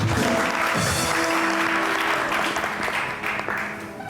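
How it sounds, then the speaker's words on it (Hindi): Studio audience on a television entertainment show applauds for Kiran, a loud, continuous rush of clapping over a sustained musical tone that eases off near the end. "तो जी बहुत सारी तालियां एक बार फिर किरण के लिए"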